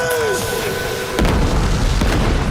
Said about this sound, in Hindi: मेहमत अपनी सारी तोपों से शहर पर हमले किया करता था